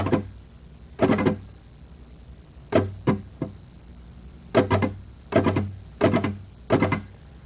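Flamenco guitar strummed slowly in a repeating three-stroke pattern: thumb up, index and middle fingers down together, then thumb down, with clear gaps between each group of close, bright strums.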